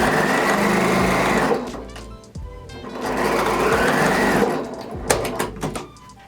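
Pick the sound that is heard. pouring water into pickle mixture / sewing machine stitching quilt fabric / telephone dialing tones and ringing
sewing machine stitching quilt fabric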